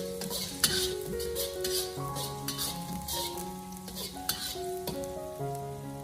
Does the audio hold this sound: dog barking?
no